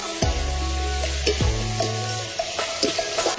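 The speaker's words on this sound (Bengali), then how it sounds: "ঠিক এরকম পর্যায়ে টমেটোটা দিয়ে দেবো, তবে হলুদ গুঁড়ো, স্বাদ মতো লবণ, হালকা করে একটু কষিয়ে দেবো।" Tomato sautéing in a pan with turmeric and salt, a close steady sizzle broken by several scraping stirs of a spatula against the metal, with no talking.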